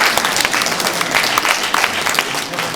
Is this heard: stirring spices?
no